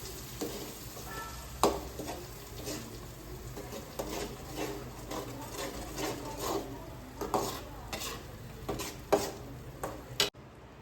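Ground masala paste sizzling in hot ghee as it is stirred in a pan for paneer butter masala, a steady close frying hiss broken by scattered sharp spoon scrapes and clinks.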